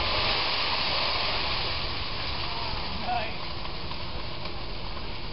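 Water dumped onto a burning pan of grease erupts into a loud, sustained roaring hiss of steam and flame that fades slightly but keeps rushing, heard close and without speech.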